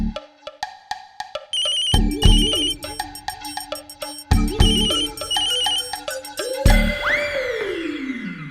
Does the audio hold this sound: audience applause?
no